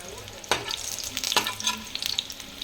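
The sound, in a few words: eggplant lightly frying in oil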